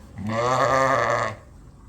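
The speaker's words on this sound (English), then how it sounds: "See that little, it's kind of a quivering baa? That's the lambing baa." A ewe gives a quivering, tremulous lambing baa during birth, one sustained wavering bleat lasting about a second, close and fairly loud, then quiet.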